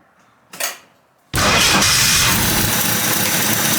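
A 1979 Ford Mustang Fox body cranks with a brief whir, pauses, then catches and roars into a loud, steady running engine right at the mic.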